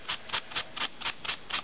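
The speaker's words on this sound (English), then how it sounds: "You just sand around the edges with some sandpaper" Sandpaper rubs around the edges of a handmade raised-heart paper card in seven quick, evenly spaced scratchy strokes, close and crisp with brief pauses between them.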